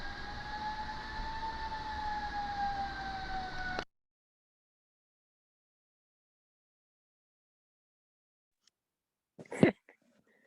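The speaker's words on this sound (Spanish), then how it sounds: "Va pasando la ambulancia." A passing ambulance's wailing siren rises and falls for a few seconds, then cuts off abruptly, leaving silence before a brief faint clatter near the end.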